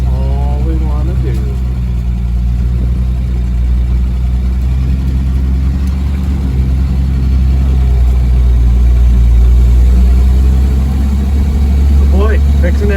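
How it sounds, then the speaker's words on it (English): The 1948 Chevy dump truck engine runs smoothly after a carburetor fix, a loud steady low rumble with slight swells in revs, heard from inside the cab as someone speaks over it. "Boy, fixing that carburetor fixed this right up. Runs like a brand new truck again."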